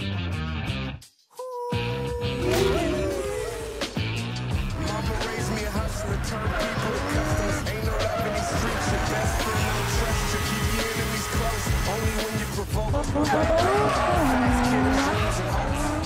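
A drifting car's engine roars continuously with rising and falling revs, and its tires squeal and skid through long slides, loud and close throughout after a brief gap near the start.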